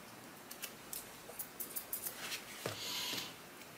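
Several crisp little snips come one after another, a soft papery crunch as curved groomer scissors cut through toilet tissue, ending in a longer rustle.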